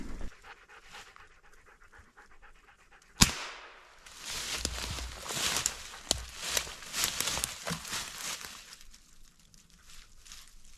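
A single sharp gunshot cracks out of a quiet taiga forest scene during a hunt, followed by rustling, movement and a hunting dog panting close by.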